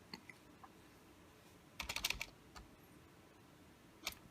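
Quiet typing on a computer keyboard, scattered single key clicks and then a quick cluster of keystrokes in the middle, close but soft, with no speech.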